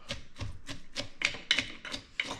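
Butt end of a wooden spoon packing shredded cabbage into a jar for sauerkraut, a steady series of soft, dull thumps with moist crunching, about eight strikes at an even rhythm, close and fairly quiet.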